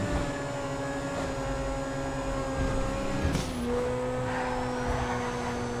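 Grotti Carbonizzare sports car driven in GTA V: a steady, loud engine drone with sustained tonal whine that shifts pitch briefly mid-run as if changing gear, continuous with no speech.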